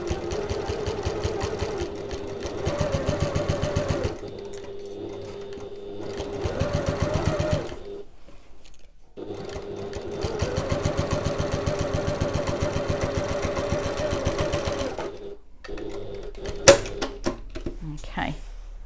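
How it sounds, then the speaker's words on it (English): Sewing machine stitching closed the turning gap of a fabric oval bag, with back stitches at start and end: steady close mechanical whirring in several runs broken by pauses. "I'm just going to sew along that turning gap to close it, and I'm back stitch at the start and the end."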